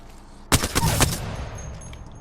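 Gunfire from Pathfinder's weapon in Apex Legends: a loud, close burst of rapid shots lasting about half a second, then a fading ring, with no talking.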